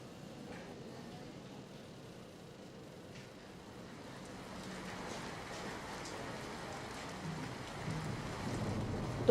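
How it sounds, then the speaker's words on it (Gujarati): Rain falls steadily over the streets of Ahmedabad, a soft continuous hiss of drops on surfaces that grows gradually denser and louder over several seconds, heard without any voices. "અમદાવાદ શહેરમાં વરસાદી માહોલ હવે બરાબર જામ્યો છે"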